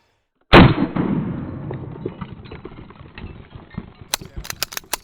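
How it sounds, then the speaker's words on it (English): A single .45 caliber gunshot strikes CFL light bulbs, a sharp loud crack followed by a long decaying crash of shattering glass, with several sharp clicks near the end. "45 caliber versus CFL bulbs"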